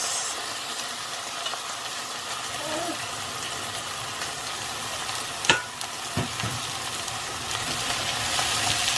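Mixed vegetables sizzle and crackle steadily in a hot pan, with a couple of clanks from stirring partway through.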